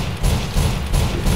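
Rapid bursts of gunfire in the video game BloodWorks come in repeated loud volleys while the player moves forward and shoots backwards.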